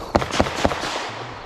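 Pistol shots at an IDPA shooting match: three sharp reports in rapid succession, loud and close, fading into a brief reverberant tail with no talking.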